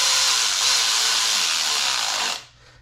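A wrench tightening bolts on a junkyard 5.3 LS engine swapped into a 1953 Chevy 3100 makes a continuous close, hissing, whirring run for over two seconds before cutting off abruptly.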